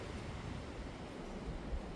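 Steady broadband rushing of wind buffeting outdoors, continuous and fairly loud with no voices.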